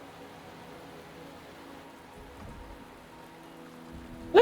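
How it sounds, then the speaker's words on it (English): Rain falling in the Genshin Impact video game, a soft, steady patter of drops on surfaces that continues evenly in the background with no talking, ending with a brief sharp sound. "The rain is subsiding, and the sky will soon clear."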